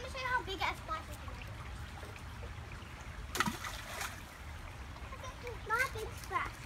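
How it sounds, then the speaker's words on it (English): A child makes a splash in the water at a park. The brief splashy burst rises midway amid children's chatter and lighter water sounds, with voices heard throughout. "So, you guys, I'm gonna show you how big a splash is."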